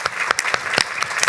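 Audience applause for a panel of civic leaders at a discussion event, a dense, steady burst of clapping filling the short moment, fairly close and even in loudness.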